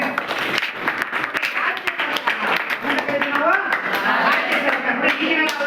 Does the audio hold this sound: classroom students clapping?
yes